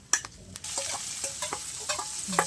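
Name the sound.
sautéing food in a pan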